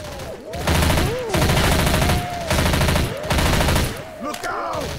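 Rapid automatic gunfire in the video game Left 4 Dead 2, loud and close, in three long sustained bursts broken by short pauses, with speech faintly underneath.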